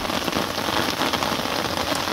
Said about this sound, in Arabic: الشتا بمنطقة سليمانية إقليم بركان.